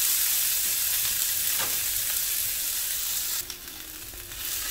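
Shredded breakfast potato patties frying in hot oil, a loud, dense hiss and crackle that holds steady, dips briefly, then swells again, close by with no talk over it.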